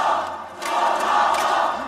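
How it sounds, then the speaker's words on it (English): A crowd at a StarCraft 2 esports tournament chants a player's name in unison, a steady roaring wash of many voices that swells and dips in rhythm across the moment. "The crowd is chanting his name."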